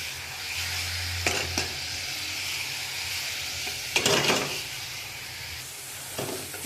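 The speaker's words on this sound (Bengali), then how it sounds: "মশলাটা ভালো করে কষিয়ে নেবো" Tomatoes and spices for chicken kasha frying in a pan, a steady close sizzling hiss broken by a few scraping stirs of the spoon.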